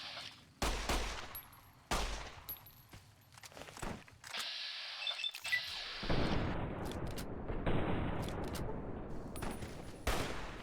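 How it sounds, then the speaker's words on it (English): Enemy gunfire in Fallout: New Vegas, with sharp bursts of shots crackling at the player, followed by a dense, sustained barrage of firing and impacts that runs loud to the end. "Oh, they're shooting gunk at me."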